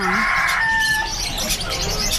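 Bantam chickens cluck and call at a poultry stall in Chatuchak market, close and fairly loud, with a short squawk and rattling cackles over busy market background noise.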